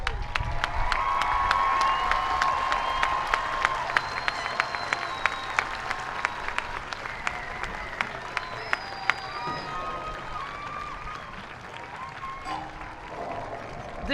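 A graduation ceremony audience at Santa Monica College applauds faculty and staff with steady, dense clapping from a large crowd, sustained throughout with scattered cheers and voices mixed in.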